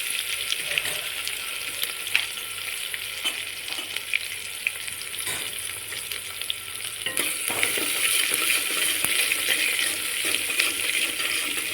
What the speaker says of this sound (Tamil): வெங்காயம் மிளகாயை போட்டு நல்லா வதக்கிக்கோங்க.